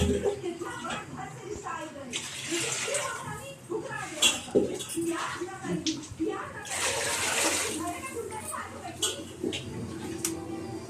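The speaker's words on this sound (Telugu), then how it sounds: "తగినంత వాటర్ వేసుకోవాలి" Water splashes and pours steadily into a cooking pot, with sloshing and clinking, under a person talking nearby.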